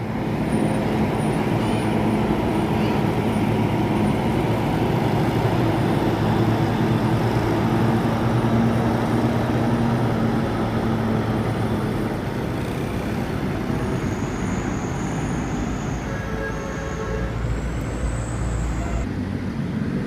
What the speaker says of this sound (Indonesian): Transport pakai bodi Patriote, sasis Hino RM280 dengan livery kuda terbang